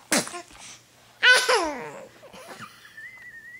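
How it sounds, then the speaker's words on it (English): A small child sneezes once, then a second sharp sneeze follows, with a faint squeaky vocal sound trailing off at the end. "Did you sneeze?"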